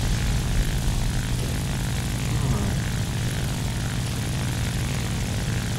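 A propeller fighter plane in War Thunder drones at full war engine power, a loud, constant, rough engine roar filling the whole stretch without letup.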